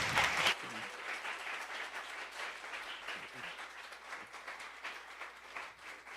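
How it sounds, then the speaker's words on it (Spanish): Audience applause for speakers at a talk, many hands clapping in a dense, even patter across the room that carries on steadily, fairly faint and distant, with no talk over it. "les pido un aplauso más para ellas"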